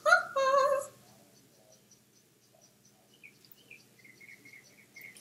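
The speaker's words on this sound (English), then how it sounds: "you can hear all the birds outside." Birds chirping outdoors, heard from indoors: faint, scattered high tweets and short calls repeating through the clip. They follow a brief burst of loud, close sound at the start.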